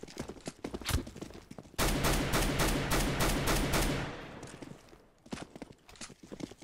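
Rapid automatic gunfire bursts loudly for about two seconds in a Counter-Strike match, flanked by scattered single shots and footsteps-like clicks, with no talk over it.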